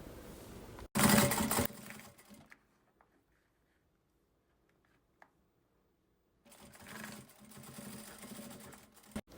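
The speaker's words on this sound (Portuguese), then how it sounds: "Onde a máquina vai começar a costurar é o limite da minha faixinha." A sewing machine stitches a fabric strip in two loud rapid whirring runs, one short and one longer, separated by several seconds of near silence with faint handling clicks.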